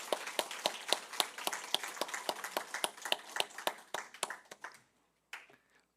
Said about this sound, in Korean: 우리 더함교회를 자라게 하신 하나님께 우리 감사의 박수 다시 영광을 돌리겠습니다.